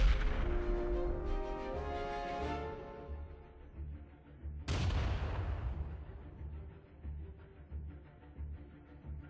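Two heavy booms of French cannon artillery in the Napoleonic-era game AHOE 1790, each loud and close with a long rumbling decay, the second blast landing midway, followed by distant crackling fire.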